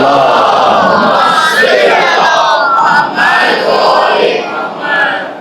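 A congregation at a Shia majlis during the Ashra at Hussainy Ashurkhana loudly recites salawat in unison, a sustained dense crowd roar of many voices rising and falling together, close and filling the space throughout.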